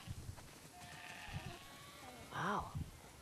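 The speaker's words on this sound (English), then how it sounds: "That's a lot of sheep." Sheep bleat in the video game The Last of Us Part 2, a wavering bleat rising clearly near the end over a quiet ambient background with a few fainter animal sounds.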